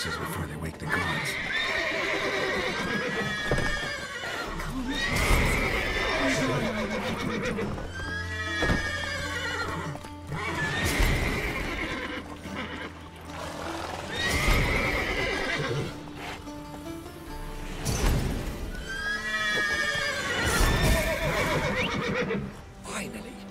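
Repeated horse neighs and whinnies ring out over steady clip-clopping hooves in The Witcher 3, with a continuous game soundscape underneath.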